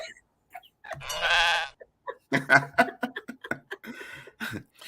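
A goat bleat sound effect gives one long, wavering bleat, followed by laughter and lively chatter from two people.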